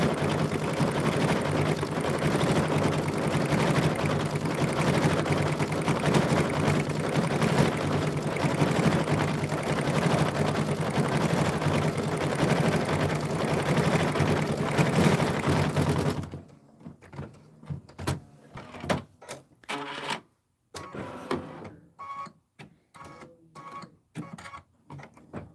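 A sewing machine stitches through thick layers of fabric for a mug rug, running as a steady fast whir for about sixteen seconds, then stopping and starting in short bursts.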